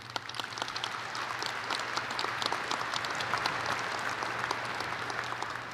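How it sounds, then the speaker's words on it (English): Steady, dense applause from a large audience at a university graduate and professional degree commencement ceremony, continuous and even throughout with no speech over it, heard from a moderate distance in a big hall. "Please give them a round of applause."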